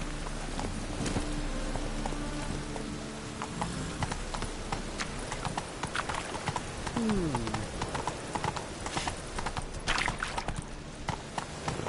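Horse hooves clip-clop steadily through a race in The Witcher 3, a busy drumming of thoroughbreds at full speed near an estate outside town, with a brief neigh partway through and faint voices in the background.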